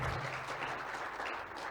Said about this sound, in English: let's give a big applause to Pak Han and Dr.